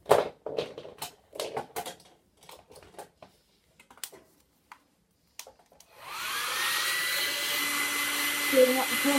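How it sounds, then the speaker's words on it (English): Sparse clicks and tapping give way to a hairdryer switching on, its steady loud whooshing hum with a faint whine running continuously to the end. "I'm going to get out my hairdryer."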